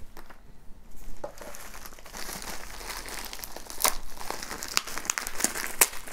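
Close, crisp crinkling and tearing of plastic wrapping as a manga parcel is opened, with irregular rustles and a few sharp crackles throughout, no voices.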